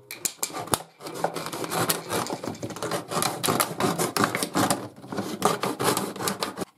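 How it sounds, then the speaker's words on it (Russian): A sharp knife saws through the top of a plastic bottle with repeated scraping, crunching strokes and a few sharp clicks, close and fairly loud. "Берем острый нож и начинаем аккуратно отрезать верхнюю часть у бутылки."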